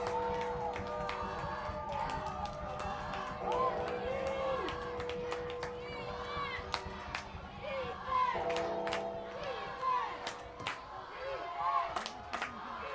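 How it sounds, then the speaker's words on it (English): Crowd at a North Dakota Class 11B high school football game between Sargent County and Central Cass, cheering and shouting to urge on the defense, with bursts and claps rising and falling under a commentator's ongoing talk. "You can hear the crowd imploring the defense here."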